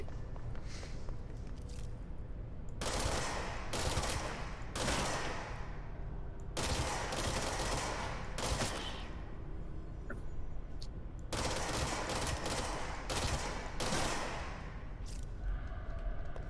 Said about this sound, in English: You just have a burst. It's the assault rifle option.